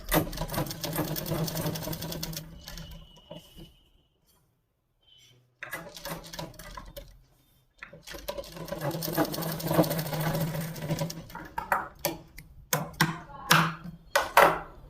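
A sewing machine stitches a fabric strip onto a suit, running in steady loud bursts separated by a long quiet pause, then starting again with a few short stops and clicks toward the end.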